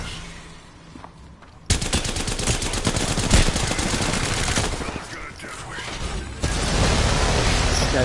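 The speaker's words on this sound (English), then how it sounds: "This guy's got a turret." Turret gunfire rattles in a video game, a loud, rapid, sustained burst of automatic shots that starts abruptly, dips briefly and then surges again.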